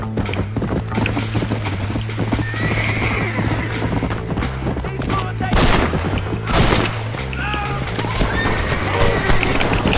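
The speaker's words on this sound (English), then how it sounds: "The horse decides to rear as I'm trying to shoot people." A horse rears and neighs loudly amid galloping hoofbeats in the video game Red Dead Redemption, with bursts of gunfire cracking over a constant music bed.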